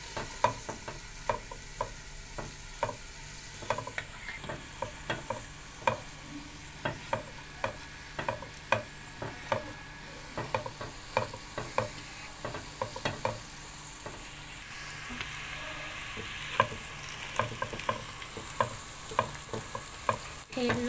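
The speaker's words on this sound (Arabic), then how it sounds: "وهنزل عليهم بالبصل، وهنفضل نقلبهم كده لغايه ما البصل تحمر" Sliced onions frying in hot oil, stirred again and again so that spatula scrapes and clacks land in an uneven rhythm over a continuous close sizzle, no voices.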